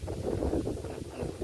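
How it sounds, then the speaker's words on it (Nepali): A light breeze blows across open countryside where buffalo are herded, a soft steady rushing buffet against the microphone with no voices. "हावा पनि अलिअलि चल्दैछ"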